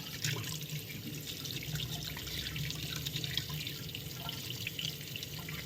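Three dirty chicken eggs are washed under a running tap, with a continuous close splash and trickle of water and small irregular knocks and drips, fairly quiet and without speech.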